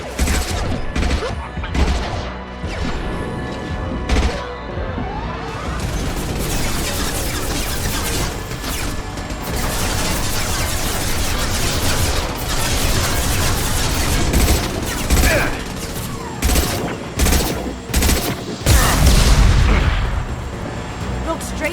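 Sustained gunfire in Mass Effect 2 rattles loudly in rapid overlapping volleys with heavy booms, and voices call out over the shooting.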